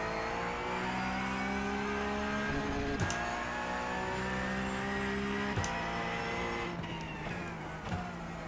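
Porsche 911 GT3 Cup engine roaring steadily in the racing game iRacing, its harmonic drone holding near constant pitch with brief throttle blips and shift-like breaks around the middle and end.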